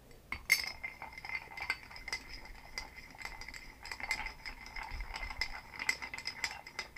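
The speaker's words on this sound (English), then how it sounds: "And you'll give that a good stir." A Flying Grasshopper cocktail being stirred in a glass, with a spoon clinking repeatedly against the sides in a steady, quick rhythm, close and fairly quiet with no voices.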